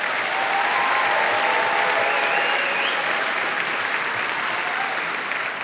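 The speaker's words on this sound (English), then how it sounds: "round of applause for all of our participants" A large audience applauding debate participants, a dense, even wash of clapping from a sizeable crowd, moderately distant and sustained throughout.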